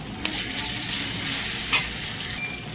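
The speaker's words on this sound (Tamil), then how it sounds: "இப்போ நம்ம இஞ்சி பூண்டு பேஸ்ட்டையும் சேர்த்துக்கலாம். சேர்த்து நல்லா வணக்கிக்கலாம் அதையும்." Onions sautéing with ginger garlic paste in a pan give a continuous close hiss, broken by a couple of brief stirring scrapes, with no talking.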